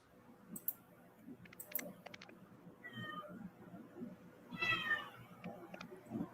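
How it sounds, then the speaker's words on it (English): Cats meow a few times, quiet and somewhat distant, with a couple of drawn-out calls over a low background hum and light clicks. "Oh, I hear kitty cats."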